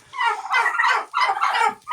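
Young blue slate turkeys on a home farmstead, squaring up to fight, give two loud, close, warbling calls, one right after the other.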